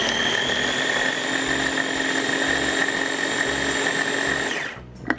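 Electric food chopper whirring steadily as it chops fresh cilantro, tarragon, parsley and basil, a loud continuous motor whine lasting several seconds before abruptly spinning down.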